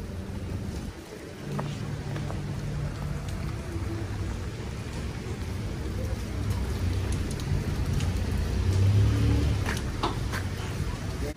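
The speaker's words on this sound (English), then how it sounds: "it is pouring rain Sunday morning" Heavy rain pouring downtown on a Sunday morning, a dense steady hiss with scattered drops and low rumbling traffic underneath, continuous and fairly loud.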